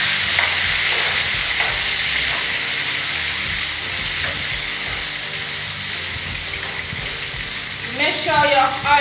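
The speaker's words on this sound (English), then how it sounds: "Make sure your oil is hot, then you add your gizzard to it and make it to fry." Chicken gizzards fry in hot oil with a steady, dense sizzle. A stirring clatter comes through, and a voice is briefly audible near the end.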